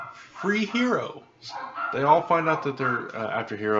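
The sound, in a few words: dogs barking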